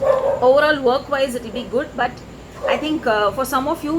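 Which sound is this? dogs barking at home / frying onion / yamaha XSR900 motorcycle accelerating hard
dogs barking at home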